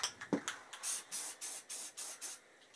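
Spray paint hisses out of a can in a series of about eight short, even bursts, each a second or less, fairly close with brief quiet gaps between them.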